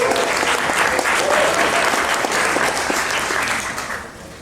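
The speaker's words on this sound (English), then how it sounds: "Please give a round of applause." Steady, dense applause from a sizable audience at a hackathon event, sustained for several seconds before tapering off near the end.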